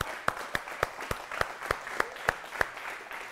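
An audience at a sales training session applauds a volunteer walking to the front, with sharp, evenly spaced claps ringing out about three times a second over a softer bed of crowd clapping, moderately close.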